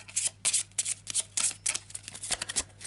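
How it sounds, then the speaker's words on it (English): A backwoods country deck of Arkham Horror game cards gets a quick shuffle, a rapid run of crisp riffling bursts and card slaps close by, with no talking. "I'll give it a quick shuffle"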